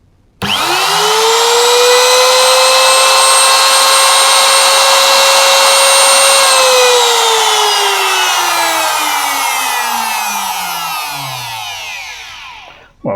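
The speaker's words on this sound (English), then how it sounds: "this is a 500 watt Makita trim router, and we can try hook that up and see how much it consumes." A 500 watt Makita trim router runs up to speed with a loud, steady high whine for about six seconds, then its pitch slowly drops as it spins down to a stop near the end.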